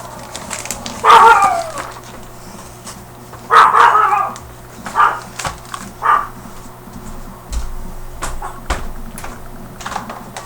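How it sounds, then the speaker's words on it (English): A pet dog barks indoors in a few separate bursts, two sharp loud barks followed by several shorter, softer woofs spaced a second or two apart, with no talking over them. "Lucky's barking"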